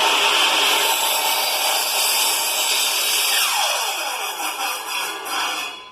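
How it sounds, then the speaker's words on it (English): A power saw motor runs at steady high speed, loud and continuous, then its pitch sweeps downward near the end as the blade works into timber skirting board for an internal corner. "Start the electric motor up to full speed before you start"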